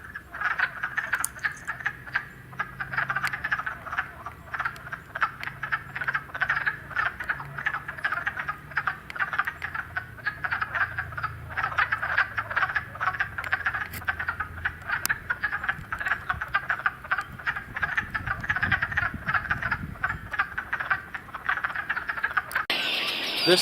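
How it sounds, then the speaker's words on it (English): Dense chorus of wood frogs calling at a vernal pond, a continuous clucking, duck-like croaking from many frogs at once, steady and moderately near, with no voices. "the vernal pond was loaded again with wood frogs"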